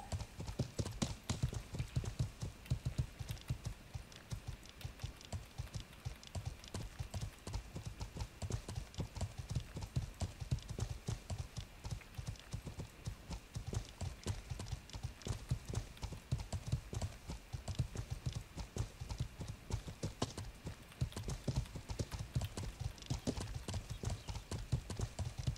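Hooves of a horse pulling a carriage in the medieval game Life is Feudal, a brisk, even clip-clop that goes on steadily for the whole stretch with no talk over it.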